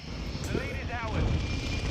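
Aircraft engine drone, Longbow 3-1 hit and going down in a Call of Duty Modern Warfare II battle, a steady roar with a wavering whine as it falls, under a shouted radio voice.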